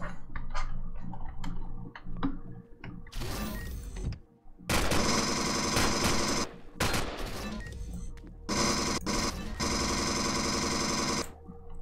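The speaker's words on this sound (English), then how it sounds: "Oh, those little turrets are back." Turrets fire in bursts in the space survival game Empyrion Galactic Survival: sharp isolated shots at first, then long, loud stretches of rapid continuous fire broken by short gaps.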